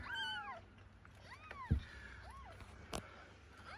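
A cat meows several times in short, rising-falling calls, fairly close but soft, with a sharp tap or knock among them in a quiet storeroom.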